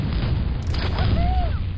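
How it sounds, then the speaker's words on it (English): Long-range mortar shells from Starsiege: Tribes hit a base as a steady, dense low rumble of distant booms, with a faint whistling tone passing overhead. "Long-range mortars again. Those you hear are explosions on the Soda's base."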